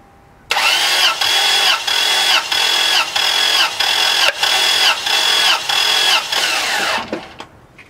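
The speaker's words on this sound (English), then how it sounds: "So I will go ahead and crank the engine for approximately 4 or 5 seconds." A Toyota Tacoma engine being diagnosed for overheating, cranked by the starter with the fuel relay removed so it does not fire: a loud, close, rhythmic churning of about nine even pulses over roughly six and a half seconds, then stopping.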